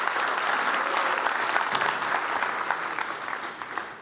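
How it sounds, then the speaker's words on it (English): A seated audience at a talk on space gives a sustained round of applause, dense even clapping that tapers slightly toward the end. "Give Vivian a round of applause."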